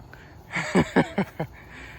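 A duck at a pond gives four short, close, nasal quacks in quick succession, each a distinct burst with quiet between.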